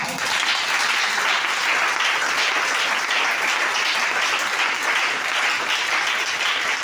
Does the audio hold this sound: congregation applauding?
yes